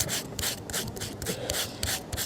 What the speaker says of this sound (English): if you just take a little sanding block